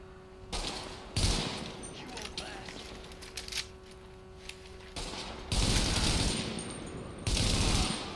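Gunfire from the video game The Division, heard as several loud, sharp bursts of rapid shots spaced through the stretch over a steady background hum, with quieter game sounds in between.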